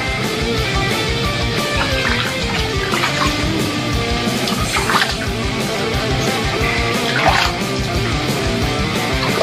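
Water runs steadily while an animal is washed in a bathtub, a constant close splashing rush with occasional louder sloshes throughout.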